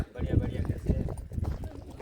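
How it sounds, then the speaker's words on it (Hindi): Hooves of a walking horse clip-clop in a quick, even rhythm on hard ground nearby, while someone talks over them. "बहुत ही काफ़ी खूबसूरत घोड़ा है, 4 दांत है, चलने में तो बहुत ही काफ़ी खूबसूरत अच्छा चलता है।"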